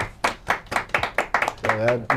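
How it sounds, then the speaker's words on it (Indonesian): Quick, sharp hand claps ring out close by in an uneven burst, with a voice chiming in toward the end. "Tepuk tangan boleh kan?"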